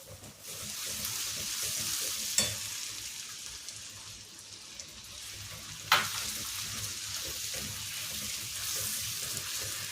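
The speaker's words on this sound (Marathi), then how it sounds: "कांदा थोडा परतून घेऊयात गुलाबी रंगापर्यंत" Finely chopped onion sautés in a pan after ginger-garlic paste for butter chicken, giving a soft continuous sizzle with two sharp utensil knocks against the pan; no speech.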